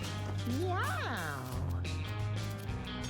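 A cartoon cat in the video game Mewgenics gives a loud, rising-and-falling meow over steady game music, with a person talking alongside.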